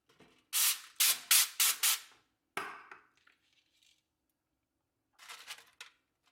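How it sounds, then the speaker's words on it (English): Cooking oil sprayed into an air fryer from a spray can comes in four quick, close hissing bursts, then a longer spray, a pause and a final softer spurt. "I'm going to spray some oil in it first."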